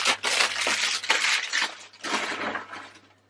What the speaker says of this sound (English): Let's get rid of these plastic bags.